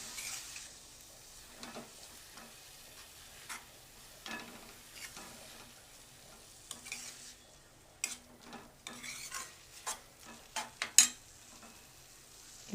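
Carrot halwa with milk is stirred in a pan, giving soft scraping and tapping strokes over a faint simmer that grow more frequent and louder toward the end.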